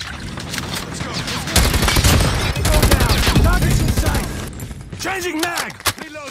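Rapid gunfire bursts in a first-person shooter video game, loud overlapping automatic fire in heavy stretches, with voices talking over the shooting.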